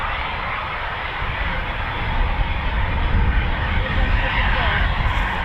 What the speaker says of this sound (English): we've got a family version Typhoon as well to come out to play